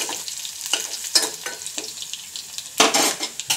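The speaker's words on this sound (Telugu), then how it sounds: "పోపులు అండ్ అలాగే కర్రీ లీవ్స్ అండ్ రెడ్ మిర్చి వేసి ఫ్రై చేసేసుకోవాలి." Curry leaves, red chilies and tempering spices sizzle and crackle in hot oil, with a ladle stirring and scraping the pan in repeated bursts, the loudest flare near the end.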